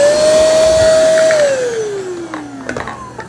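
A Tikom V500 cordless vacuum cleaner running on high mode makes a loud, steady whine close by. The pitch then drops as the motor winds down, and a few light clicks and knocks follow.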